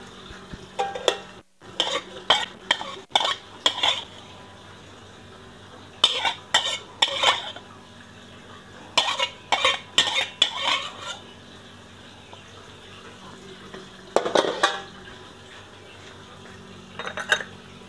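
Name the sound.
adding shiitake mushrooms to a pot and stirring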